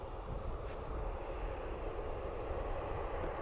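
A TAP airliner's jet engines spool up at Dublin Airport, a steady broadband roar with strong low rumble that holds at a constant, moderately loud level throughout, heard from a distance with no talk.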